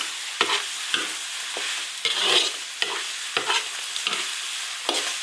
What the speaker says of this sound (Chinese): 多炒会儿把它炒香